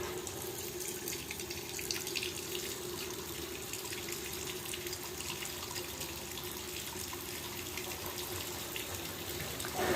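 Godrej top-load fully automatic washing machine filling with water, a steady, continuous rushing flow into the drum that stays even and close throughout with no talk.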